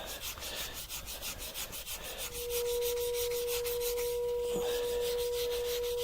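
Surface hand-sanded with 400 grit sandpaper gives a rhythmic, close-up rubbing scratch that becomes a steady, louder rasp partway through, with a faint tone underneath.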